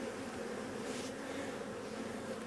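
Honey bees pour out of an opened hive that has been treated with formic acid during a honey harvest, making a dense, steady buzzing hum close by that fills the whole moment with no talking.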